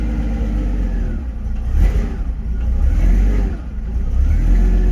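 A 1967 Chevy Camaro's straight-six engine revving close by, a loud, rough low rumble that swells and eases several times over a steady idle.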